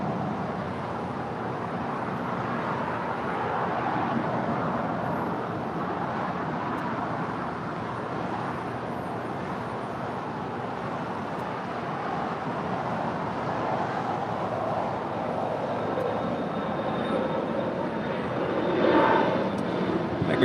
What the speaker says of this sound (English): This is Avianca, the Star Alliance livery flight 522 coming in from San Salvador. A319.